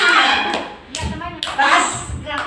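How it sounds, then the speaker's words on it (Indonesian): A group of kindergarten children claps hands during a classroom quiz, two quick bursts of close, bright applause separated by a short pause, with young voices mixed in. "Tepuk tangan ke tangannya semua"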